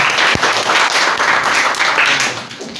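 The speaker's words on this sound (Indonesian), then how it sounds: "Kita berikan tepuk tangan untuk semua." An audience applauds steadily at a talk on Islamic scholars, dense clapping holding near-constant loudness for about three seconds before easing slightly at the end.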